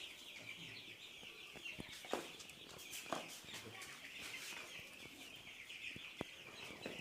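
Chickens raised for meat on a small poultry farm, a steady crowd of clucks and chirps with occasional sharper calls standing out over a constant background hum.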